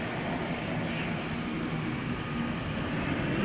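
A 1994 Cessna Grand Caravan turboprop at DFW Airport makes a continuous rushing engine roar, steady and moderately loud, swelling slightly toward the end, with no voices over it.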